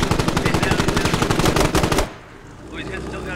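Rapid machine-gun fire in the military shooter game Squad, a dense, loud, steady burst of shots for about two seconds that cuts off abruptly, leaving quieter battlefield background.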